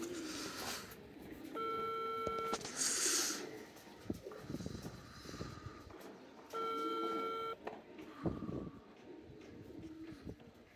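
A phone call rings out over speakerphone as a pigeon's owner is dialed: two separate bursts of a steady electronic ringback tone, each about a second long, with quiet room noise between them.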